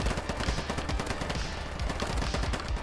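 Rapid gunfire rattles in a shooter video game, dense overlapping shots in quick bursts, loud and continuous across the moment.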